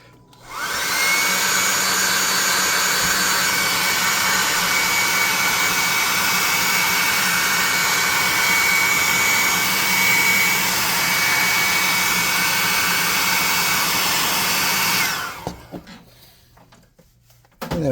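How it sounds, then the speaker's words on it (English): A hot air gun drying freshly painted miniatures gives a steady, close, loud blowing whir for about fourteen seconds, then cuts off abruptly into near silence. "I'm going to use the +2 hot air gun of burning to dry them up quick."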